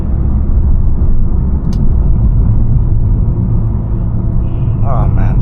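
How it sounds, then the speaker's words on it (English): A 2021 Mercedes-Benz A250 with a 226 hp engine and seven-speed AMG Speedshift gearbox downshifts for engine braking, giving a loud, steady low rumble from inside the cabin. A brief click comes partway through and a faint chirp near the end. "Downshifts to do a bit of engine braking."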